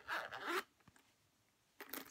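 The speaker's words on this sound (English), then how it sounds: "And it zippers closed" Zipper being drawn closed around a hard-shelled fountain pen storage case with three divided pen slots, two short scratchy bursts separated by a quiet pause, close and moderately loud.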